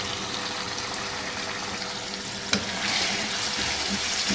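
Chicken karahi with yogurt, tomato pieces, black pepper and red chili cooks in a pan while a spoon stirs it. A steady close sizzle and bubbling hiss runs throughout, with one sharp clink midway.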